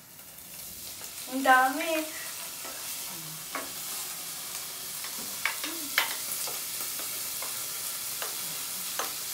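Ham frying and being stirred in a hot pan for carbonara, a steady soft sizzle under scattered utensil clinks and scrapes, with brief talk near the start.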